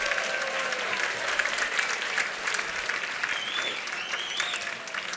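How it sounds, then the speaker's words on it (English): Guests at a literary gala dinner give the table captains a round of sustained, dense applause that fills the room evenly from start to finish. "let's do an applause for the table captains for carrying out those duties"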